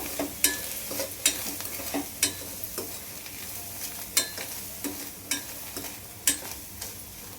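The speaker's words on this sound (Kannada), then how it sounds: "ನಾನು ಸ್ವಲ್ಪ ಫ್ರೈ ಮಾಡ್ಕೋಬೇಕು." Sweet corn frying with salt in a pan, a quiet hiss of sizzling punctuated by regular sharp scrapes of a spoon stirring, roughly one per second, with no voices.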